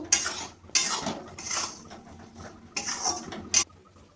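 Sugar being stirred into a besan laddu mixture in a pan: a spoon scrapes and clanks against metal in several separate bursts with short pauses between them, close and fairly loud, with no talking.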